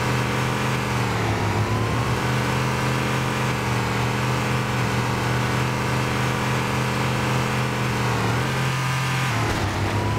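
The Warthog's engine in Halo: Combat Evolved drones steadily at full volume while driving, a constant loud motor hum with slight pitch shifts and a brief dip near the end.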